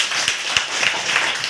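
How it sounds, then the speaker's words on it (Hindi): Clapping from an audience at a science demonstration of flame and oxygen, a quick burst of overlapping claps with a few sharper single hits, moderately loud and close. "ताली बजा।"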